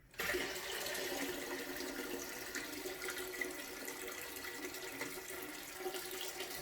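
Liquid pours steadily into a dyeing pot, a continuous close rushing and splashing stream that starts abruptly and keeps going without talk.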